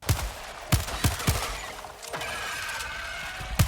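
Heavy gunfire in the video game Helldivers II, a run of sharp, weighty shots arriving in irregular bursts with loud impacts and crashing debris between them, no voices.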